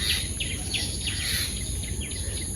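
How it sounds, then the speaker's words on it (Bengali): A common tailorbird in a Bangladeshi village gives a rapid series of sharp, high chirps in a steady repeating rhythm, set against a constant insect drone. "টুনটুন পাখি টুনটুন হয়েছে"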